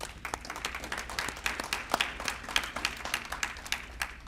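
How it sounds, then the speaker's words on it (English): An audience at a beautification awards ceremony applauds long-term award winners: dense, steady clapping from many hands, moderately loud and continuous throughout, with no talk over it. "Let's give them applause right now."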